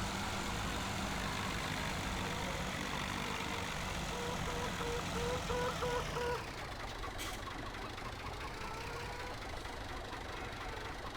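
A small farm tractor engine idling nearby, a continuous loud rumbling chug with a knocking edge that holds steady, its tone shifting slightly midway before settling back into an even idle.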